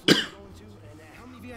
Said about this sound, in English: Excuse me, guys, I'm going to cough.